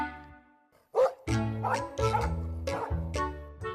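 A dog gives a rapid run of five or six loud, close barks and yips after a brief quiet start, the calls coming in quick succession.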